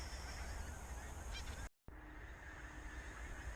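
Pink-footed geese on a frosty morning marsh, a distant flock honking steadily as birds lift off, a continuous faint chorus with a brief break partway through.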